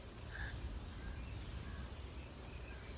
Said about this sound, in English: Wow, so many sounds of birds.